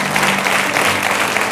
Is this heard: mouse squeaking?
no